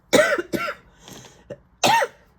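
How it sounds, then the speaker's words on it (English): Several harsh coughs burst out close by, two in quick succession, a pause with a faint throat noise, then one more. "if I cough too much, I may have to cut this short."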